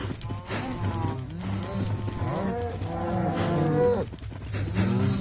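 Several cows moo repeatedly in Minecraft Bedrock Edition, overlapping low bellows from a herd in a farm setting, loud and close, over a steady game background with no speech.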